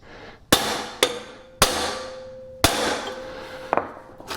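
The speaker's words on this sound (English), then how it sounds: "And you need a good size hammer." Five sharp metallic hammer strikes at irregular intervals, driving a gear into place on a Camaro/Trans Am, each ringing briefly with a lingering clang, loud and close with no talking.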